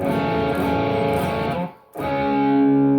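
A distorted electric guitar rings out in a sustained power chord, cuts off briefly, then comes back with another held, buzzing chord.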